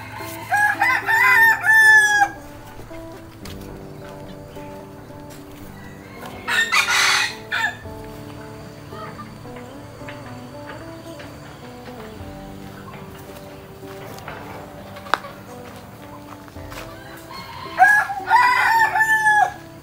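A rooster crows loudly three times, spaced far apart, with quiet background sounds filling the gaps between calls.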